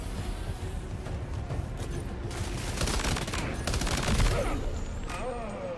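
Rapid gunfire crackles in bursts during a Death Stranding combat encounter, sharp volleys repeating over battle music and ambience, with someone commenting over the action.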